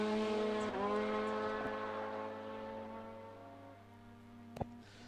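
Nitro funny cars at Palmyra Dragway blaze their tyres off the drag strip start line, a loud, sustained roaring engine drone with harmonic tones, dipping briefly and fading slightly before a sharp bang near the end.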